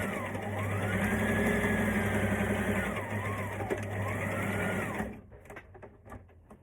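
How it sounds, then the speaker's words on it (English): A sewing machine stitches elastic in place on a maxi skirt, whirring close and steadily for about five seconds before stopping, followed by quiet handling sounds. "I'm going to sew my elastic in place like that"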